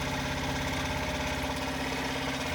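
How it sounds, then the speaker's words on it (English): A boat tender's outboard engine idles steadily at a fast idle, a loud continuous rhythmic putter with a low throbbing pulse, running alone without talk. "I raise it to a fast idle to use the fuel that's in here"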